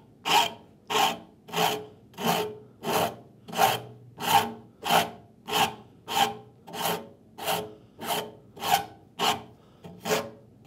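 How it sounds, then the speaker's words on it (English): A coarse rasp shapes a wooden saw handle in sixteen regular, evenly spaced strokes. Each is a gritty, scraping rasp, close and clear with no talk over it. "I'm going again with my coarse rasp."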